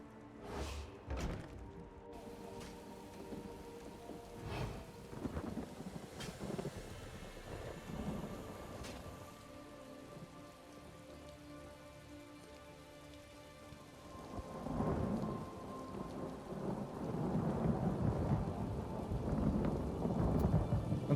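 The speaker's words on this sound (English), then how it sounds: "That's a long thunder roll." A long roll of thunder rumbles through steady rain in a stormy outdoor scene of The Elder Scrolls Online, distant at first and then swelling louder and closer, with rain pattering throughout.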